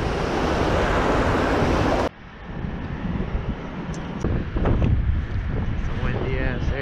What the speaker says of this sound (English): It's a windy ass area.